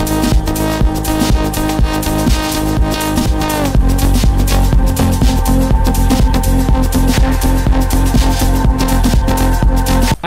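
An electronic music track plays loud and dense with a driving pulse, deep bass and layered synth textures that thicken after a few seconds.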